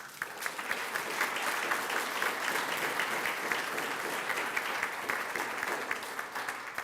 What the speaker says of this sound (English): Round of applause for our choir in Sheldon High School